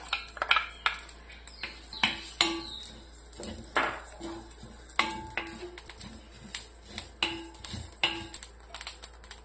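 Matta rice roasting and being stirred in a pan, with scattered sharp clinks and taps of the utensil against metal and small popping ticks, irregular and close, alone without talk.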